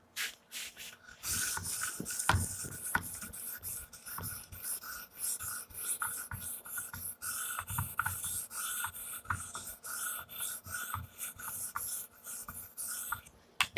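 A Damascus dagger is drawn across the stone of an Edge Pro Apex sharpener in steady, repeated gritty strokes, close but fairly soft, with no voices.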